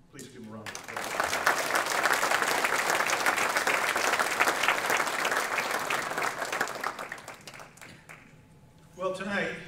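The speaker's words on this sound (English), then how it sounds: "Please give them a round of applause." Audience applause at a college sports hall of fame induction ceremony fills the hall, a broad sustained clapping that swells, holds steady and tapers off before a voice returns at the end.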